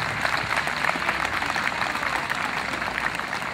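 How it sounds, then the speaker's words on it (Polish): After a performance at an equestrian event with carriage races and horse theatre, a crowd applauds steadily, producing a broad, continuous wash of clapping at even loudness throughout. "wspaniały występ, wielkie brawa"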